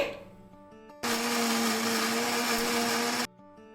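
Kitchen mixer grinder whirring loudly for about two seconds as it grinds soaked tamarind and ginger into a smooth chutney paste, starting and stopping abruptly, with quiet room sound before and after.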